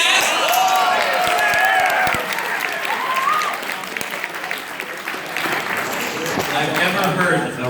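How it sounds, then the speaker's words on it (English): A room of convention attendees at a live game-show event bursts into loud, sustained applause and cheering, with voices shouting over the clapping as it slowly tapers off. "I've never heard a room cheer for asthma."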